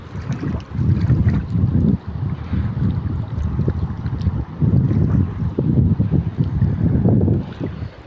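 Loud, continuous roar of swift floodwater racing through a flooded village, a dense low churning rush close by, with gusts of wind noise on the microphone rising and dipping.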